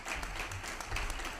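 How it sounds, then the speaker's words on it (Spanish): At a literary award ceremony, the audience applauds a novelist coming up to receive a prize, a short, moderately close patter of many hands clapping together. "Recibir con un aplauso a Esteban Navarro Soriano"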